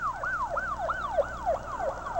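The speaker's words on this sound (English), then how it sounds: "That is a fire department ambulance going by." A fire department ambulance siren on a city street corner, wailing loudly and close in a fast repeating up-and-down yelp as the vehicle passes.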